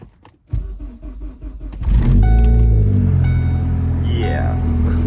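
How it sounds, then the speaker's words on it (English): Ford Focus ST cold-started in powdery snow and freezing weather: a starter whirs for a couple of seconds before the engine catches and settles into a loud, steady idle, with a brief voice early on. "so we'll go ahead and get a cold start."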